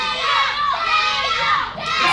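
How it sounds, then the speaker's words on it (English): A crowd at a wrestling event, a food drive show, cheers and shouts loudly, with many young voices screaming together in a sustained burst. "And there goes the crowd."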